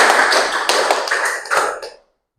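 A classroom clap-count game: a series of sharp, evenly spaced hand claps, close and bright, about two seconds long before stopping, with no talking over them.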